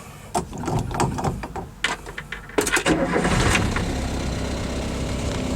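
An old Renault 4 engine cranks with a few sputtering bursts, then catches and settles into a rough, steady running rumble.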